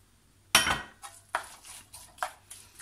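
A semolina bread filling of ground beef and olives is mixed in a bowl, giving a sharp knock followed by several soft, spaced scraping clinks of utensil on dish, with no talk.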